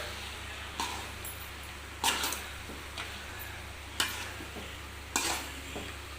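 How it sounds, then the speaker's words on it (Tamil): Rice being stirred into simmering gravy in a pan, giving a soft steady sizzle with several sharp spoon scrapes and clinks at irregular intervals, close and fairly quiet. "இப்போ வந்து சாப்பாடு போட்டு கிளறிக்கலாம்"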